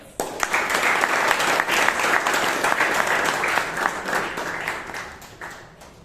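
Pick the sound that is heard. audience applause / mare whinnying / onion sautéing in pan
audience applause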